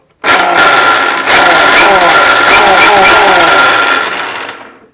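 A mixer grinder whirs on loudly and abruptly, dips once for a moment, then runs on before switching off and winding down, pulsed to grind coarsely.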